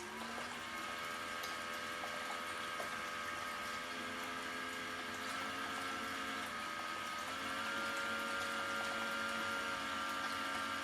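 A small 12-volt water pump feeding a little gold sluice runs steadily with a constant whirring hum and rushing water, unbroken for the whole stretch with no talking.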